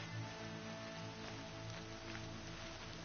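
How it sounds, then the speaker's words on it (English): Rain falls steadily in a video game, a soft, even patter over a low humming music bed, faint and continuous with no talking. "More rain. My boots will get damp."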